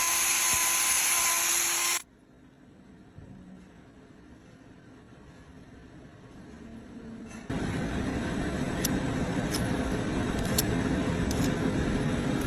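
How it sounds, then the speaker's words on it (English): Power grinder cutting into a cow's hoof to open an abscess and clear out lodged rocks, a sharp high whine that stops, leaves a quiet pause, then resumes as a steady, louder grinding buzz. "I'm going to use my grinder here to give us a bigger access point to get all of these rocks out of there."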